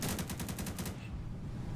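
Rapid automatic gunfire in the video game Insurgency, a fast string of about eight sharp shots over the first second, then fading into a low rumble and background hum.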